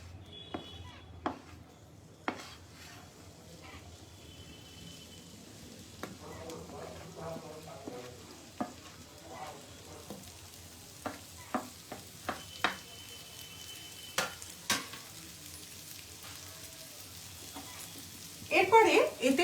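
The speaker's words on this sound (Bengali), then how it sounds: "সাদা তেলটা গরম হয়েছে, এবার এটার মধ্যে আমি এই পুরো মাখাটা ঢেলে দেবো।" Paneer lollipop mixture hits hot white oil in a pan and fries with a steady, close sizzle, punctuated by scattered sharp clicks and stirring taps, ending in a louder crackling burst.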